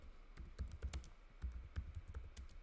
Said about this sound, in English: I'm very bad at typing, so pardon me for that.